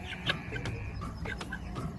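Several short clucks from an Aseel chicken at a livestock market, nearby and moderately loud, come in quick bursts over low background murmur.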